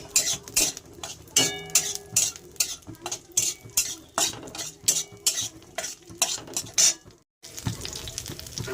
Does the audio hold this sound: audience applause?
no